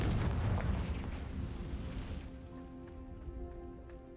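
A Confringo fire spell exploding in the Hogwarts Legacy game, a loud booming blast that rumbles and fades over a couple of seconds into a quieter, tonal ambient tail.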